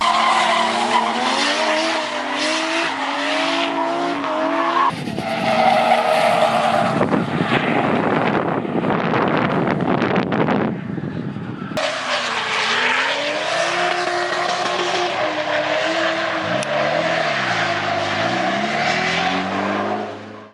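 An LS-swapped Lexus SC400 drifts at a racetrack, its tires squealing and skidding almost without pause while the V8 revs hard and loud throughout, with no voices.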